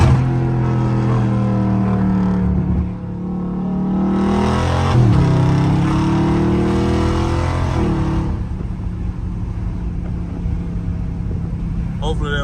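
A manual Dodge Scat Pack engine revs loudly and rises in pitch through a hard pull, with a gear change midway, while someone talks over the drone.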